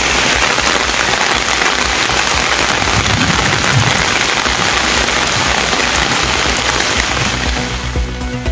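Heavy rain pours steadily in a dense, hissing wash that stays loud and even throughout, with no voices.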